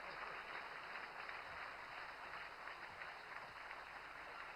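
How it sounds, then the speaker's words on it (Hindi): Applause for the Chief Minister at a regional industry conclave in Gwalior: a continuous, even wash of distant crowd clapping, faint and hiss-like, sustained without a break. "जरा तालियां तो बजाओ मुख्यमंत्री जी के लिए।"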